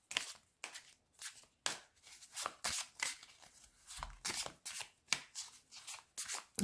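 Angel oracle cards being shuffled by hand, a quick series of crisp riffling and slapping bursts in irregular rhythm, close and fairly quiet with no talking.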